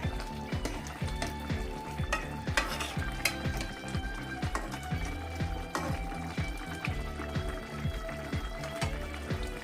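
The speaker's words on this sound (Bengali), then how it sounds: "একটু নাড়াচাড়া করব।" Bean, potato and fried lentil-dumpling curry being stirred in a pan, with a steady sizzle and simmer and repeated clinks and scrapes of a spoon against the metal, close and fairly quiet.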